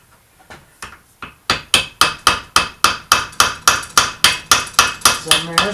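A steel punch is struck repeatedly with a hammer to loosen a reverse-threaded bolt on a Mercury 25 hp outboard; after a few light taps the blows settle into a fast, even run of loud, ringing metallic hits.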